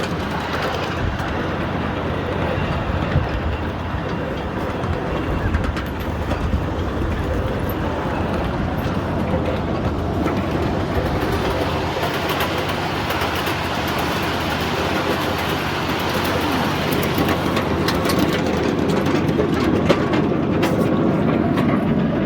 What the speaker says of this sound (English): Oh, we got another train coming.